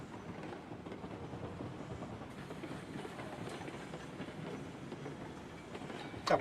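A steam train in the video game Railroads Online rolls along the rails with a steady low rumble and faint clickety-clack, ending in a brief sharp squeal.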